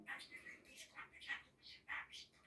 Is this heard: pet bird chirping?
yes